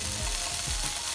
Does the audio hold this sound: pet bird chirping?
no